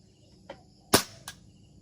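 A Tokyo Marui SIG P226 airsoft pistol fires one sharp, close snap, framed by a couple of fainter clicks before and after in a quiet space.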